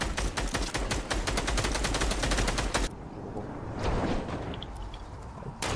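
Rapid automatic gunfire in a shooter video game, a dense burst of repeated shots for about three seconds, then quieter scattered game sounds and distant shots.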